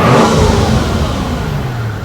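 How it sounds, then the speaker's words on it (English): A Mercedes SL600 with a twin-turbo 500 hp V12 engine revs loudly nearby, a sustained deep roar with a slight whooshing edge that gradually eases off, with no voices. "Hear the turbos?"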